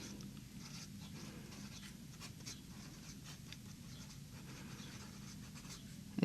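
A Schmidt fine-nib fountain pen in a Talisman writes on paper with faint, steady scratching and soft strokes in a quiet room, ending with a small tap.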